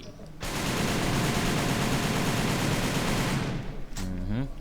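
M14 rifle firing full-auto in the shooter game AVA, a loud continuous burst of rapid gunfire at close range lasting several seconds, then ending abruptly.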